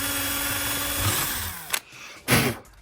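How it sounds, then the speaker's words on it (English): A power drill bores a pilot hole into a truck chassis while a Y link kit is installed. The tool whines loudly and steadily, its pitch sliding down as it bears into the metal, then stops, followed by one more short burst. "we'll go ahead and drill our next pilot hole"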